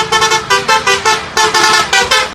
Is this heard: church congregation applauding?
no